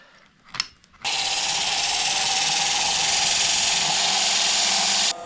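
A steady, loud whirring grind from a spinning homemade MDF sanding disc on a lathe, used while woodturning a Christmas snowman decoration, starts abruptly after a brief quiet knock, runs evenly for several seconds, then cuts off.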